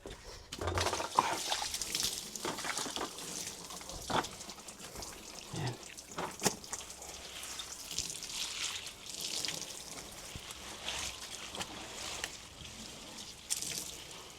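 Water splashing and dripping during cleaning of a farm pig pen in the Philippines, with pigs grunting and oinking close by, a steady wet spatter running throughout.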